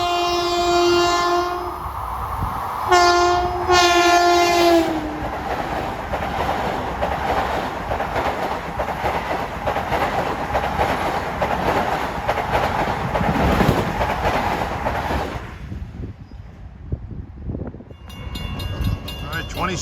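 A Long Island Rail Road Ronkonkoma Line train sounds repeated horn blasts approaching the Islip Avenue grade crossing, then rumbles loudly past for several seconds before fading. A brief ringing tone follows at the end.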